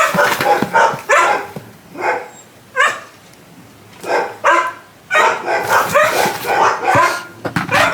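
Several dogs bark in repeated loud bursts, with short yips and pauses between volleys, close by.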